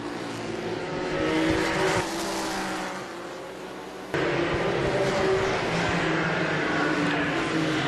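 An ISCARS Dash series race car roars past, its engine running rough under loud, ragged revving. The tone wavers and sputters instead of running smoothly, with a sudden jump in loudness midway.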